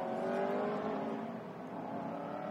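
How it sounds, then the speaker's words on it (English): Onboard the number 22 GT race car in the China GT Championship, the engine drones steadily at high revs with a slight dip and recovery, loud and close, with no voices. "Here we are riding on board with the number 22 car, driven by Will Bamba and Liao Yang"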